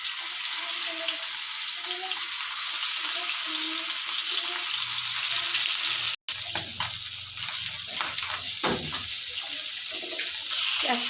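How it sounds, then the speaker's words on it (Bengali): Rohu fish pieces fry in hot oil on a tawa with a steady, dense sizzle and crackle close by, with some clattering and faint talk partway through. "মাছগুলো দিয়ে দেবো।"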